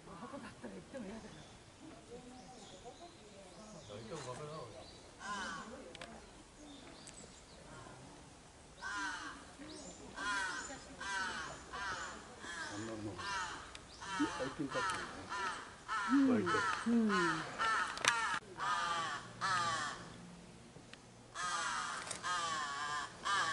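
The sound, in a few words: crows cawing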